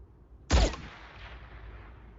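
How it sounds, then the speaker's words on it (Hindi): A single shot from a sniper rifle in an action film: one sharp, close blast that fades into a soft lingering tail, with no voices. "उड़ा दो उसे, एक ही शॉट बिना आवाज के"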